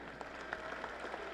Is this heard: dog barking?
no